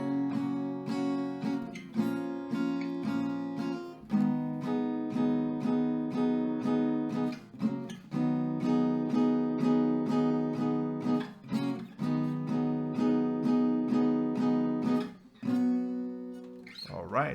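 Acoustic guitar strums the chords of a song in a steady repeating pattern, loud and close, with brief pauses between chord changes and no talking over it.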